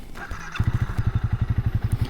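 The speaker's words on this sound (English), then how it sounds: "let's get her started" A single-cylinder motorcycle engine cranks and catches, settling into a loud, steady idle with rapid even thumping pulses.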